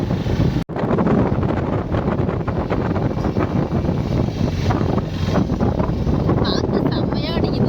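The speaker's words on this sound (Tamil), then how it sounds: "காத்து செம்மையா அடிக்குது." Strong, steady wind buffets the microphone outdoors near the water, a dense continuous roar with a brief dropout near the start, while people talk over it.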